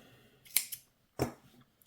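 Scissors snip twice through the loose end of crochet yarn on a granny square. The two crisp, close cuts come about half a second apart in an otherwise quiet room.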